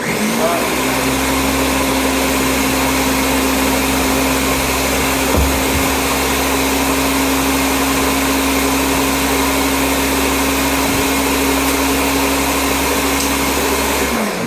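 A blender making a smoothie whirs loudly and steadily throughout, a constant motor drone with a faint pitch shift near the middle.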